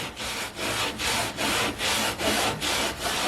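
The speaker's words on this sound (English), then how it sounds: "And I guess the salt is like an abrasive." Salt and a dishcloth scrub an old cast iron skillet in rapid back-and-forth strokes, about seven rhythmic gritty rasps in three seconds, close and steady with no talking.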